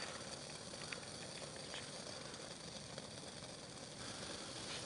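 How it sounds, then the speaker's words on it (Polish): Water bubbles at a steady rolling boil on a wood stove outdoors, a faint, continuous hiss with soft popping and no voices. "Woda gotuje się już w pełnej objętości,"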